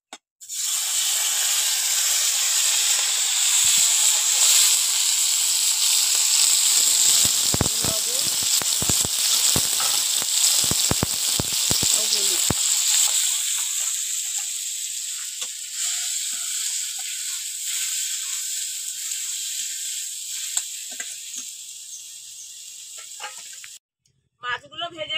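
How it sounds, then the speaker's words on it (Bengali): Shrimp frying in hot oil in a heated wok over a stove, a loud hissing sizzle that starts abruptly, crackles with sharp pops early on, then settles into a steadier fading hiss before cutting out near the end. "কড়াটা গরম হয়ে গেছে, তেল দিয়ে দেবো। চিংড়ি মাছগুলো ভেজে দেবো।"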